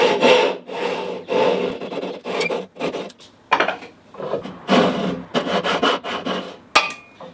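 Hand saw cutting dovetails in wood, a series of rasping back-and-forth strokes in bursts with brief pauses, close and fairly loud, no talking.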